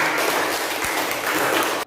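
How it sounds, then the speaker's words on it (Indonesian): Classroom applause for a student, a dense burst of many hands clapping together, steady and fairly loud before cutting off abruptly near the end. "kita beri tepuk tangan untuk teman kita"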